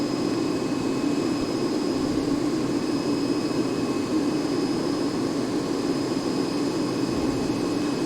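Airliner jet engines at maximum throttle in the Prepar3D flight simulator game, heard as a steady, even cockpit drone with a low rumble and faint high whine, constant and alone.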